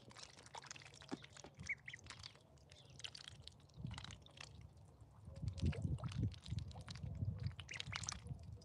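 Ducklings at a homestead peeping and quacking softly nearby, with scattered splashing and wet squishing as they move about, fairly faint, growing busier and louder toward the end.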